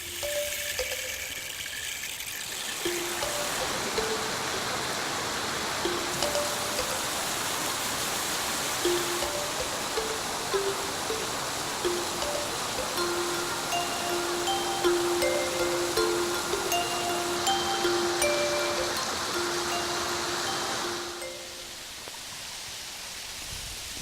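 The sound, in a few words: waterfall gushing over rock wall, Shangri La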